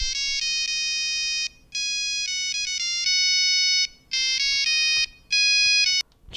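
A Nokia 3310 plays a ringtone melody made with its built-in composer: bright monophonic beeping notes in short phrases with brief gaps, loud and close, alone without talk.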